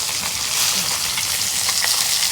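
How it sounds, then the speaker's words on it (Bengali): Fish fries in a pan with a loud, dense, close crackling sizzle that runs unbroken throughout, with faint spatters and no speech. "মাছ ভাজা হচ্ছে"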